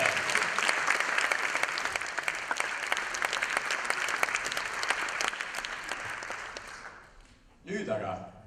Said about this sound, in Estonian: Suur aplaus tõelistele Eesti meestele!